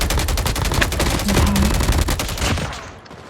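Rapid automatic gunfire rattles from Call of Duty Mobile multiplayer, a dense, fast stream of close shots that thins and fades away toward the end.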